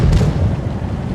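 A tank gun fires in World of Tanks Blitz: a single deep, booming shot opens sharply and decays into a lingering low rumble.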